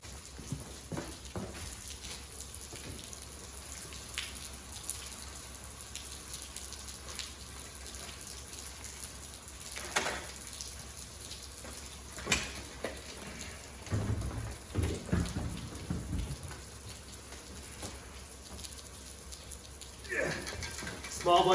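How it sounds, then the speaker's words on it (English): Heavy rain pours down steadily around a workspace, a dense constant hiss with occasional louder spatters and knocks, and a person talks briefly over it. "It is raining so hard."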